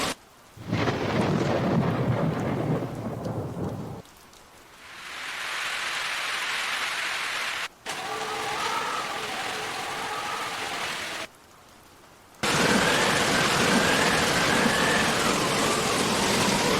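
Thunderstorm with heavy rain lashing down in Balasore, a dense steady roar of downpour broken by abrupt cuts, with low rumbling thunder underneath and loud hiss filling the sections.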